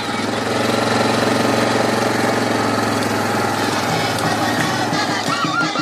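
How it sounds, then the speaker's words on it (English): A vehicle pushes through grass about a metre taller than head height on a mission trip, heard as a loud, steady engine drone with rough rattling and swishing throughout. "So we'll take a little drive now and show you what it's like driving through it."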